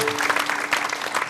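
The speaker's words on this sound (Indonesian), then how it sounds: "Tepuk tangan yang meriah" Audience at a university campus event applauds a singer's introduction, brief lively clapping with a faint tonal hum underneath.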